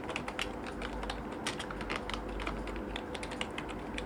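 Computer keyboard typing, a steady run of quick key clicks at close range with no talk, as text is entered in CorelDraw 2020.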